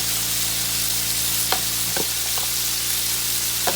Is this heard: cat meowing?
no